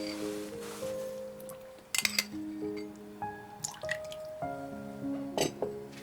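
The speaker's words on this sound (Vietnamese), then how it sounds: "mình cho gia vị vào đây gồm có 1 muỗng canh bột nêm, 5 muỗng canh nước mắm" Seasoning powder and spoonfuls of fish sauce go into a bowl, making soft drips and small clinks of a spoon against the bowl, close and quiet, over faint sustained musical tones.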